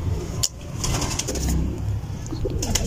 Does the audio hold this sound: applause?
no